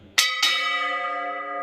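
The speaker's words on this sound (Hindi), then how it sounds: "और ये घंटियां," A Hindu temple bell is struck twice in quick succession, loud and close, and each bright metallic strike rings on into a long, shimmering, slowly fading tone with no voices.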